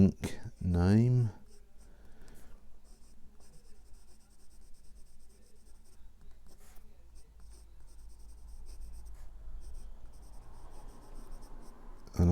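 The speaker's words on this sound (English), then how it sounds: "I'll just write down the ink name." A Platinum Procyon fountain pen writes on paper with faint, soft nib scratches in short strokes over a long quiet stretch, after a brief burst of voice at the start.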